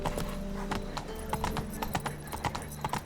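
Horse hooves clip-clopping at a steady galloping rhythm in The Witcher 3, close and continuous, with game music and faint ambient sound beneath.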